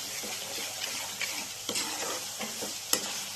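Masala with chana and potato fries in a pan over a high gas flame, a steady sizzle broken by repeated scraping stirs of a spoon against the pan.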